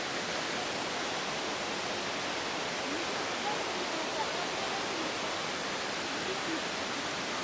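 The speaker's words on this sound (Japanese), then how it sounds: "羽衣滝。" Hagoromo waterfall in Hokkaido, a steady broadband rush of falling water heard from a distance, constant and fairly soft with no clear voices.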